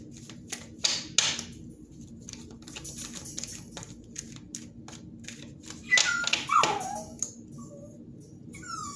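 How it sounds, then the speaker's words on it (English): A dog whimpers and yips in short, scattered bursts at close range, with a few sharper sounds near the end over a low background hum. "Sorry, that's my dog."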